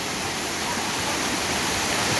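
Vattai waterfall flowing, a steady, full rushing roar of falling water that stays constant and close throughout, with no voices.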